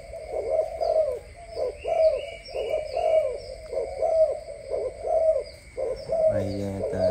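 Large imported breeding pigeons cooing close by in a repeated rhythmic series of low coos, about a dozen calls with short gaps, alone without talk.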